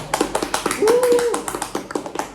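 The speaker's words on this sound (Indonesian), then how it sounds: "Tepuk tangan dulu, tepuk tangan." A small audience claps in scattered, uneven bursts of individual claps while people speak over them, including one drawn-out vocal sound.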